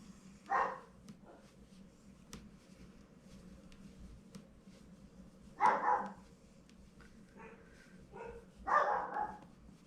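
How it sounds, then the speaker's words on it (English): Household dogs barking indoors at some distance, three separate bursts of barks spaced a few seconds apart over a quiet low hum, fairly faint. "Oh, I apologize if you can hear my dogs barking."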